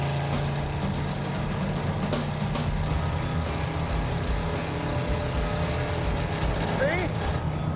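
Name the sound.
Camaro engine running under load at different RPM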